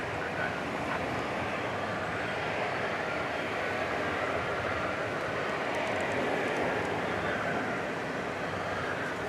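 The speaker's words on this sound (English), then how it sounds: "right now, we've got the Qatar Airways A350-1000" A Qatar Airways Airbus A350-1000 departs from DFW Airport at night, bound for Doha, its distant jet roar a steady, low, broad rumble that holds at a fairly quiet level throughout.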